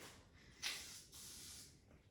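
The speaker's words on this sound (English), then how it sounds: "I am gonna put a little mousse on" A can of hair mousse hisses out a foam burst with a sharp onset, then settles into a steady spray lasting about a second; it is close and alone, with no talk.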